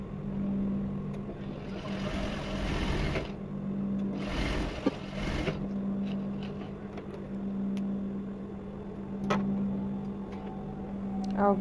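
A sewing machine stitches fabric, humming steadily with quiet ticking and a few louder rustling bursts of cloth being handled, all faint and close.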